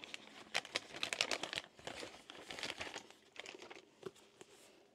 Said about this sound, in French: Je retire les autocollants. J'essaie de retirer sans trop déchirer.